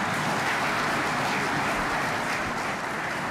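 Sustained crowd applause fills a large hall at an economic forum in Kinshasa, a dense, steady wash of clapping from an audience with no pauses.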